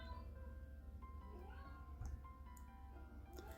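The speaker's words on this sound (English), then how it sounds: "And you hear my cat in the background." A cat meows faintly in the background, a few drawn-out cries over a low hum, distant and soft.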